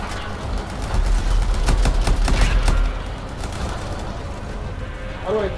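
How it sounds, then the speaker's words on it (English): A grenade explosion with bursts of gunfire in the video game Anthem, heard as a rumbling blast and rapid crackling shots. Game audio continues underneath, and a voice comes in briefly near the end. "I threw a grenade."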